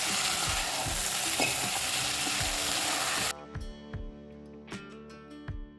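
Goat mutton curry frying in a pan with a loud sizzle and spoon scrapes, then water poured in cuts the sizzle to a quieter bubbling simmer broken by a few clanking stirs.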